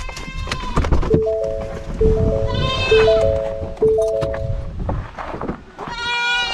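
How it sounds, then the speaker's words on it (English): Several goats bleat loudly in wavering, nasal cries, one after another, close by, with a steady low rumble underneath. "we're gonna check on the goats real quick. Oh man, oh man, they're making noise back there."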